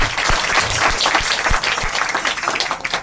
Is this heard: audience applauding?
yes